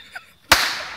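A Fourth of July firework explodes in a single sharp, loud bang that trails off into a decaying rumble, preceded by a faint brief sound.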